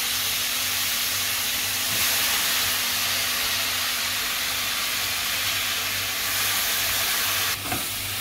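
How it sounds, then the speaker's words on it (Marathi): Brinjal and potato slices fry in hot oil in a pan, producing a steady, moderate sizzle and hiss that continues throughout with a faint stirring clunk near the end. "आता वांगा बटाट्याचे काप घालूया।"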